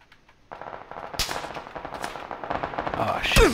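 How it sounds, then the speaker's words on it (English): Gunfire crackles in the battle royale game PUBG near a bridge, with rapid, overlapping shots of varying distance building in density and ending in a louder close burst. "There's a lot of gunfire going on over there"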